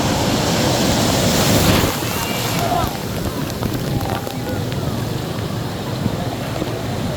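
Rough ocean surf at Cox's Bazar rushing and breaking close by, a loud wash that eases into a steady churning roar with wind noise.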